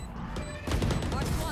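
Gunfire in a tactical shooter video game, a brief burst of shots with a louder crack partway through over a dense wash of game noise, and a voice talking over it.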